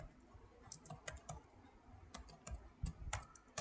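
Quiet, irregular clicking of computer keyboard keys while typing a Python print command at the command line, short bursts of typing with brief pauses between them.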